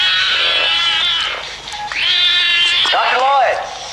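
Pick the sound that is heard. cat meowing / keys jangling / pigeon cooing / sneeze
cat meowing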